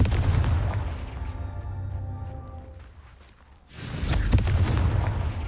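Booming blasts of the Confringo fire spell in the Hogwarts Legacy video game sound loud and rumbling, with a heavy burst, a brief lull, then a second strong blast with crackling debris.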